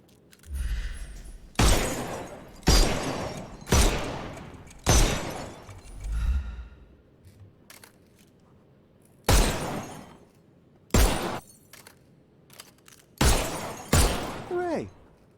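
About ten sharp pistol shots at targets in the Sherlock Holmes: Chapter One game, loud and close, fired in quick clusters with short pauses between and quiet gaps in between groups.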